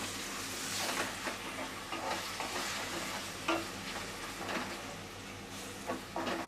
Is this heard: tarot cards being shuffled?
no